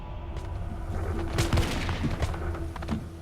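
A volley of muskets fired by soldiers at Lexington in the American Revolution, a ragged burst of several loud overlapping shots in quick succession with echoing booms.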